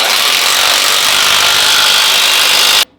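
A loud, steady whir from an impact gun driving a 1.5 inch blade nut, running continuously for almost three seconds before cutting off abruptly.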